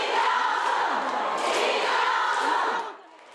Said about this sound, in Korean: 극장을 가득 채운 팬들의 환호성이 쏟아집니다.